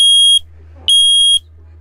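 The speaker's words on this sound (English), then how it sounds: "We've also got the smoke alarm, which works up on there." Smoke alarm aboard a Maxum 2700 SCR cruiser boat sounding in two loud, piercing electronic tones, each about half a second long with a brief gap between, heard close up over a low hum and no talking.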